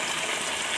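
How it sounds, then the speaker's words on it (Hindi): About a glass of water is poured into a pot of fish curry, or machhali ka salan, being cooked with its broth. The pour is a brief, steady gushing splash that sounds fairly faint, with no talk. "1 गिलास पानी में डाल दूँगी इसके अंदर।"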